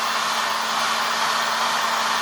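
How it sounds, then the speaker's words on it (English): Close, constant roar of a hair dryer blowing on freshly painted rocks, an even airy whoosh over a steady motor hum, with no talk. "so I'm going to use my hair dryer."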